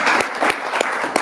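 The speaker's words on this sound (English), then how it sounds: "One more round of applause." A room of club members claps in warm, scattered applause welcoming new inductees, several sharp clap bursts at a close distance with no voices over it.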